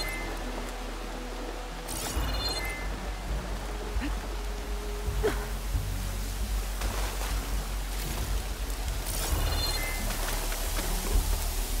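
Steady rain falls across the world of the video game Horizon Forbidden West, a soft, continuous hiss with occasional louder gusts and low rumbles beneath it, with no talking.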